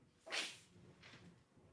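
A single quick sneeze, fairly close and sharp, followed by a faint softer breath or sniff in an otherwise quiet room.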